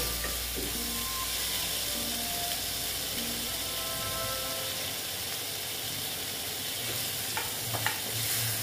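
Fried ridge gourd is lifted out of a pan as oil keeps sizzling, with stirring and scraping of a utensil against the pan and no voices.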